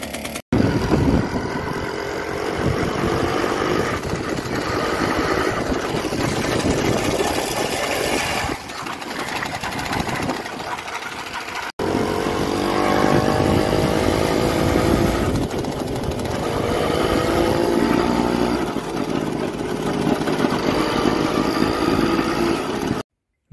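A Romet Komar moped engine runs steadily and loud for the whole stretch, a buzzing two-stroke drone whose exhaust is clogged with carbon, with a brief cut near the middle.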